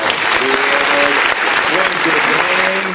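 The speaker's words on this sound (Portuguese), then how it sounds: "A salva de palmas." Audience applause fills the room at a family talk event, a dense continuous wash of many hands with voices speaking over parts of it.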